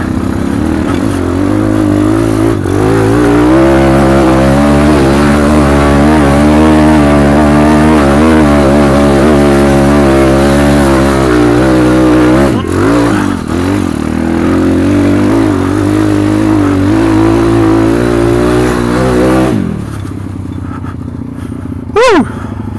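A 140cc motorcycle pulling hard at full throttle in second gear while wheeling, its engine note rising and falling loud and close for about twenty seconds before easing off, with a voice talking over it.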